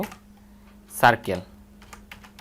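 Someone types on a computer keyboard during an HTML lesson, with a short burst of close key clicks and a few faint taps afterward, while a voice speaks quietly in the background.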